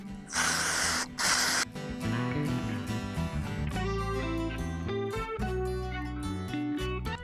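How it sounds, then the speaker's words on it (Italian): Brake cleaner is sprayed onto a 2024 Beta RR 125 two-stroke motorcycle in two short, close hissing bursts near the start, with background music playing throughout. "Con il semplicissimo pulitore per freni andiamo a togliere tutta la sporcizia che c'ha."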